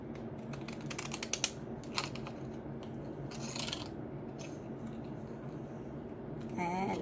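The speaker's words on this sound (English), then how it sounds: "I will use my fancy scissors to cut along one edge" Fancy scalloped-edge scissors cut along the edge of lace for a belly band, giving a few quick crisp snips early on and then soft steady rubbing. Close and fairly quiet, against a low background hum.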